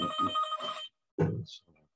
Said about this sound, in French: téléphone qui sonne